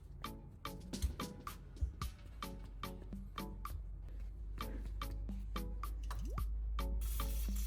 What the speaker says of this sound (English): I continue spraying more WD-40 into the hidden corners, especially near the joint of the pliers.